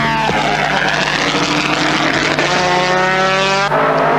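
A Holden Torana A9X race car and other touring cars at Bathurst 1979, their loud engines snarling as they rise through the gears, with one car shifting up in a steep, rising whine.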